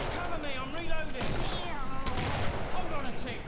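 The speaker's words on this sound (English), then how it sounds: "Oh, he's shooting it." Gunfire in the Killing Floor video game, a rapid, dense burst of shots and fusillade close in the mix, with voices talking over the shooting.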